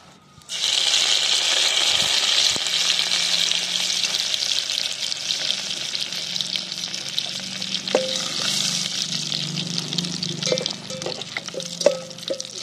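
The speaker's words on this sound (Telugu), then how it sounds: "హోల్ గరం మసాలాలు అయితే వేసుకుంటాను. ఇప్పుడు ఆయిల్ అయితే వేడైంది." Whole garam masala spices frying in hot oil for egg biryani, cooked outdoors in a garden: a steady, loud sizzle with bubbling crackle and occasional stirring clinks toward the end, no talking.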